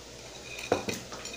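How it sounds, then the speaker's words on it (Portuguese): A knife chops garlic into thin rounds on a board, giving a few quick, close knocks after a brief quiet stretch, with faint kitchen background and no talk. "Eu estou aqui picando o alho, gente, em rodelinha."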